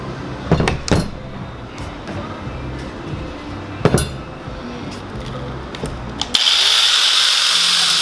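An angle grinder with a worn cutoff wheel cuts steel for a heavy-duty front bumper, opening with sharp metallic clinks and taps before the wheel bites in with a loud, sustained high grinding whine.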